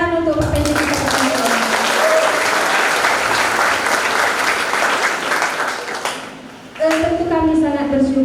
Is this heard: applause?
yes